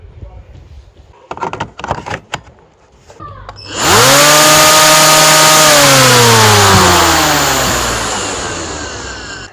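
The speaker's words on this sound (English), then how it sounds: "let's put a battery in there and we'll have a quick look at the head spinning" A SWIFT battery-powered garden tool head spins up, a few clicks and handling knocks giving way to a loud whirring motor that rises sharply in pitch, then holds and slowly fades.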